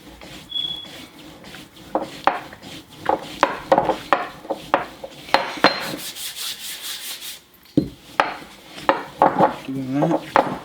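Pasta dough being rolled out with a rolling pin on a floured wooden surface, giving repeated soft rubbing and thumping strokes with a few light clinks of utensils, close by with no talking.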